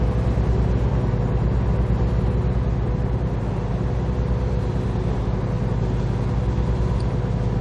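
Steady, close truck engine drone cruising in 11th gear in American Truck Simulator, a continuous low rumble with road noise holding even throughout, no talk.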